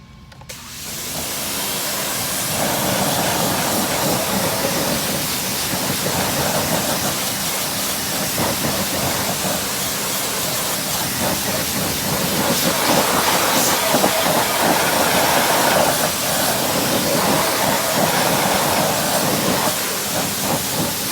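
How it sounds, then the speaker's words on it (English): A pressure washer blasts a car wheel coated in wheel-cleaning gel; after a brief quiet start, a loud, continuous broadband hiss of spraying water takes over and holds steady to the end. "I'm going to go ahead and just hit it with my pressure washer"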